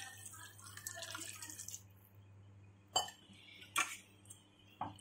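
Water poured into a pot of brinjal curry (kathirikkai kulambu) simmering in oil, heard as a few short splashy drips and clinks at close range over a low steady hum, with no talking.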